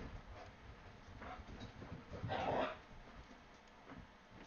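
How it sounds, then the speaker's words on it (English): Pet dogs playing indoors, with faint scuffling and soft yips and whimpers that swell into a brief louder burst midway, all low in the background. "Now my dogs are playing."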